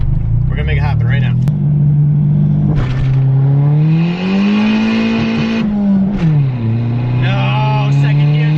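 Boosted Honda EG hatchback accelerating hard, engine note rising and shifting through gears with loud sustained revving, while people talk and shout excitedly over it throughout.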